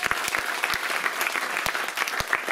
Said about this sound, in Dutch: Mag een groot applaus voor Paul Geerlings en Rob Verbeek.